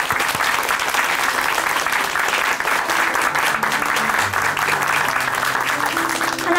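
Applause from a church audience fills the room, a dense and steady clapping that holds at a constant level for several seconds with no talk over it.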